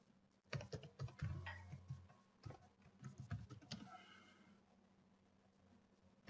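Fingers typing on a computer keyboard, a quick irregular patter of close, crisp keystrokes with brief pauses, heard alone without talk.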